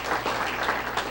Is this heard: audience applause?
yes